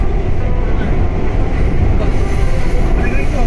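A Kolkata metro train crossing the Ganga picks up speed, its loud, steady rumble of wheels and carriages filling the whole stretch with a faint high squeal of wheels on rail.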